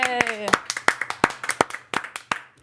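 A small group of people claps in a quick, uneven patter of sharp hand strikes, close and clear, following a short cheer.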